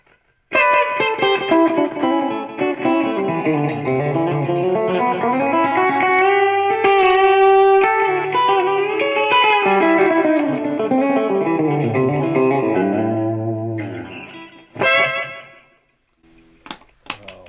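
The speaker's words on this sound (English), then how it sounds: "compressor, slap back." A Vox MV50 amp modeler plays a clean electric guitar tone through a compressor and slapback delay. Sustained, layered chords and melodic lines ring out loudly and smoothly for about fifteen seconds, then fade into a few short, sparse notes.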